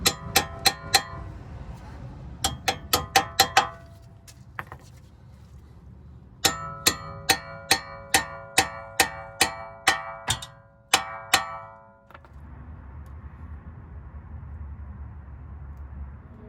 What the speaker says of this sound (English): You're going to take a hammer. And you're just going to tap this in.